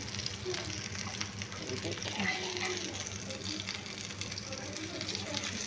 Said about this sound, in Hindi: गोल्डन गोल्डन से रेड रेड से कबाब फ्राई करो।